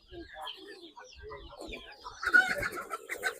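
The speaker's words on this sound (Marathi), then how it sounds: "प्युअर गावठी कोंबडी आहेत" Native desi chickens crowd a poultry farm, giving faint scattered clucks and chirps with quiet murmuring voices around them.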